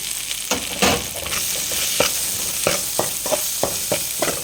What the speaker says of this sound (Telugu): నెయ్యిలో బాగా క్యారెట్ అలా రెండు నిమిషాలు వేపుకున్న తర్వాత క్యారెట్ అయితే నీట్గా ఏగిందండి